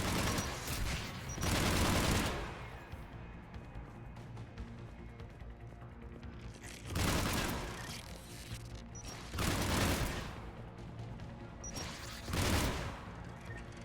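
Gunfire and rocket blasts from the Mass Effect 3 video game come in several dense, loud broadband bursts over a steady rumbling backdrop, spaced a few seconds apart.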